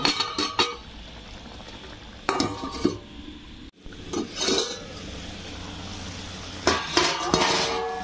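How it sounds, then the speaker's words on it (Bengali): A pot of curry with chicken skin and kochur loti (taro stolons) gets covered with a metal plate in a kitchen, giving several sharp clanks and clinks of metal on metal between quieter stretches of low background noise. "এবার এটা আমি এখানে একটা থালা ঢাকা দেবো।"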